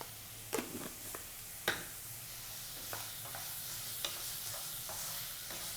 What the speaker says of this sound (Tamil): வெங்காயம் பூண்டு இதெல்லாம் வந்து நல்லா நீங்கள் வதக்கிடணும்